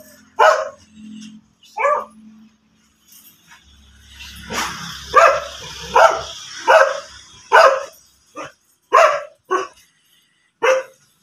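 Several sharp, separate dog barks in a rural yard in Nueva Ecija, coming in short bursts with gaps between them and growing more frequent toward the end, fairly close and clear.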